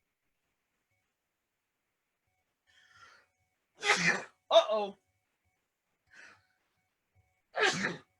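A single loud, sharp sneeze in a quiet room, preceded by a soft intake of breath, with a brief spoken exclamation and another sneeze-like burst after.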